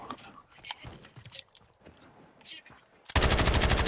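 Call of Duty gunfire: a sudden loud burst of rapid automatic shots near the end, preceded by quiet clicks, crunchy noises and brief murmured voice.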